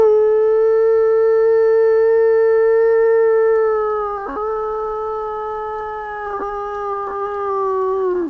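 A man imitates a wolf howl with one long, steady, loud tone that sags and wavers near the end, heard alone and close.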